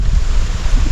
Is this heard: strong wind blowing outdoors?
yes